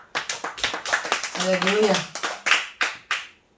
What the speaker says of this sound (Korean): 하나님 그 영광의 박수로